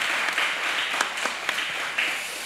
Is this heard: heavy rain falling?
no